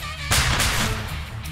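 A single sharp, loud gunshot blast from the video game Empire of Sin, with a booming tail that lingers for about a second.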